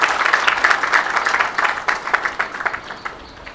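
An audience breaks into lively applause, dense clapping that starts strong and thins out into scattered individual claps toward the end, fairly loud and close.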